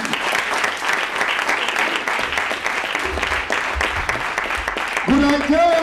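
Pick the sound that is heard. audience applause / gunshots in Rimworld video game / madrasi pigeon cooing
audience applause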